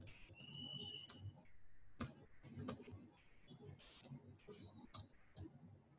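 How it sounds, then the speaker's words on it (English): A web address is typed on a computer keyboard, with sparse, faint key clicks coming in short irregular bursts over a quiet room. "So I will type in the web address"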